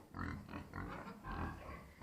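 Pigs grunt repeatedly in short, low bursts, close by and fairly loud, with farm background noise.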